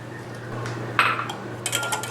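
Curd is beaten in a bowl with a spoon, giving a few sharp metallic clinks and scrapes that grow busier toward the end, close and clear over a quiet background.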